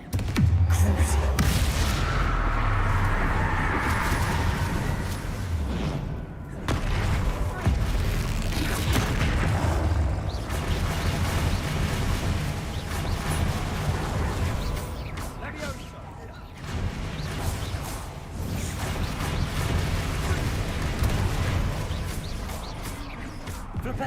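Spell explosions in Hogwarts Legacy, with repeated heavy booming blasts and crackling magic effects thundering almost continuously across a busy combat sequence, while a voice speaks over the din.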